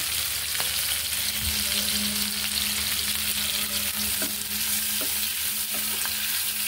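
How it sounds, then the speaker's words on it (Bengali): Onions, green chillies and bay leaves frying in a pan, a constant close sizzle with occasional spoon taps and stirring scrapes throughout. "পেঁয়াজ, কাঁচামরিচ এগুলো ভেজে নেব। তেজপাতাও দিয়ে দিলাম।"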